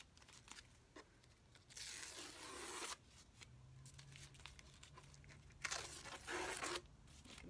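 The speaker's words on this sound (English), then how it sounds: "All these pieces of tape off." Masking tape is peeled off painted furniture in two long ripping tears separated by softer crinkling and handling noises, close and fairly quiet, with no one talking.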